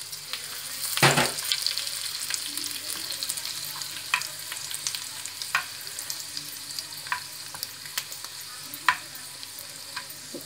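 Dried red chillies drop into hot oil for a tempering for Hyderabadi tamate ka kut, with a loud burst of sizzle at the start settling into a steady close crackle and scattered pops for several seconds.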